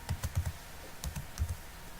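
Keys clatter on a computer keyboard as a login name is typed in two short quick bursts of soft clicks, close and fairly quiet, with no talking.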